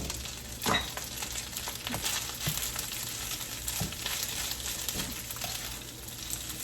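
Rice added to a pan of hot garlic oil and frying for Java rice, a steady close sizzle with occasional scraping stir strokes, without talk.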